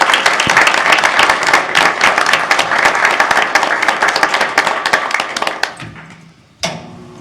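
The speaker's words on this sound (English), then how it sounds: "let's give this young lady one more round of applause" Honoring a young girl, the audience at a Saline city council meeting bursts into brisk, close clapping that thins out and fades near the end, followed by a short knock or shuffle once the applause has stopped.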